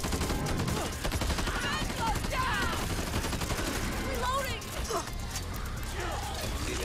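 Gunshots in the zombie shooter Back 4 Blood: steady, dense gunfire and chaotic action noise fill the stretch, mixed with excited voices talking over it throughout.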